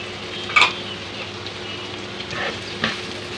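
Onions, ginger and garlic sizzle steadily in a pan while being stirred, with a couple of sharp scraping clinks of the spoon against the pan and no talking.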